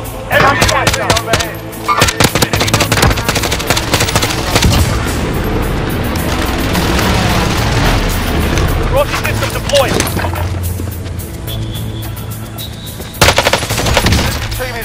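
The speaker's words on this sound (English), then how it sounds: "Be advised, friendly position airstrike." Dense, loud Warzone gunfire on Pacific Rebirth Island, with rapid automatic bursts from rifles like the SIG SG 550 and B&T APC9 K and booming airstrike explosions, runs almost continuously, with brief game voice lines mixed in.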